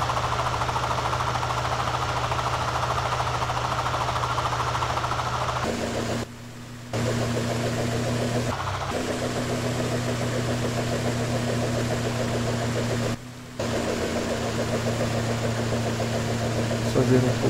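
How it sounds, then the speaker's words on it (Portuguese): Simulated Robinson R44 helicopter engine in Flight Simulator X, a steady droning hum with a low tonal whine that holds level throughout, briefly dropping out twice, while someone talks over it. "Aumentar a potência do motor, subir o coletivo e vamos controlar nossa manobra."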